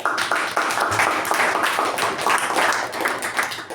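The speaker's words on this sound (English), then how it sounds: "let us give a round of applause for all of us" A meeting group gives a round of applause, dense close clapping from a small crowd, steady and loud for the whole stretch with no talk over it.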